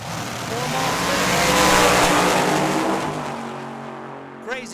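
A fuel altered drag racing car makes its run at Tucson Dragway, a loud, close engine roar that swells to a peak and then fades as the car passes and pulls away.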